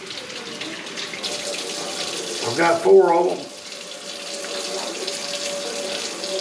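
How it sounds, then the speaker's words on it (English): Tap water runs steadily into a sink, rinsing four black powder revolver nipples after a hot-water soak, with a brief louder splash midway and a short spoken remark over the flow. "So all we're gonna do is give them a rinse."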